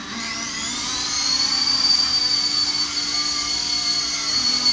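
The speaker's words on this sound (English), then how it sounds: "now we're going to fly the FP200 Novice from Helimax helicopter" A Helimax Novus FP200 RC mini helicopter flying, its small electric motor and rotor giving a steady high whine that swells slightly and holds, close by, with no talking.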